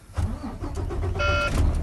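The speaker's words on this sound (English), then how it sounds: "And I will now restart my truck." A truck engine restarts in the cab during an in-cab brake inspection, a steady low rumble with a brief high-pitched electronic tone partway through.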